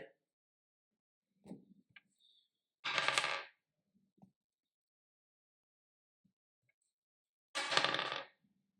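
Dice rolled and thrown onto a surface during a classroom probability experiment, two bursts of clattering rattle a few seconds apart, each lasting about half a second, with soft handling sounds in between and no talk.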